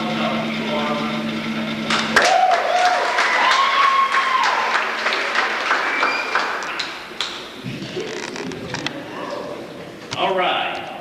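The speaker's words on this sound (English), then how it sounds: "So give yourselves a round of applause because you are participating." Students at a Delta State University orientation applaud themselves, a crowd clapping steadily for several seconds with scattered whoops, while people talk over and around it.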